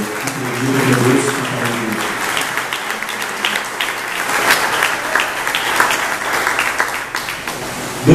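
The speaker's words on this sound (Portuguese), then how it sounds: "Aplauda o Senhor." Sustained applause from a large church congregation, steady and full throughout, with scattered claps standing out and a faint voice briefly under it.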